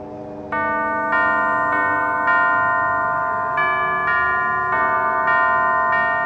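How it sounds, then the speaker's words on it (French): Bells ring out a slow melody in the video game Alice: Madness Returns, clear, sustained chimes struck one after another at a steady pace, each note ringing on over the next. "Elle ne sourira que si on joue la bonne mélodie avec les cloches."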